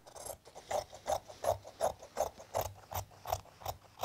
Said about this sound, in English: Take my scissors and cut that.